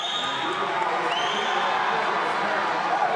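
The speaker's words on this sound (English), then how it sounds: "Gomez's teammates cheering him on here in their backyard of Dallas." Teammates cheer from the stands at an indoor swimming championship finals in Dallas, a steady, dense crowd roar of shouts and cheering that holds at one level throughout.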